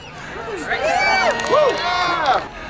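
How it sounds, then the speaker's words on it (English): A crowd gathered for a marble weekend in Eureka, California cheers and whoops, with many voices rising and falling together, close and loud, for a few seconds. "Let's give a cheer for Eureka."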